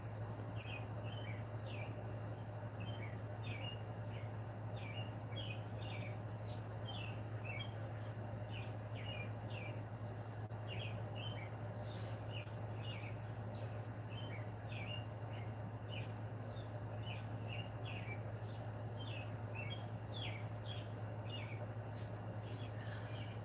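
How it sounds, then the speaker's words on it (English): Birds chirp in a garden, many short high twittering calls repeating throughout, fairly distant and soft over a steady low hum. "Now I hear them chirping away."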